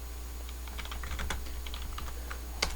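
Keys on a computer keyboard clatter in quick, uneven bursts as a terminal command is typed in Kali Linux, close and fairly soft, with one sharper final keystroke like Enter and no voices.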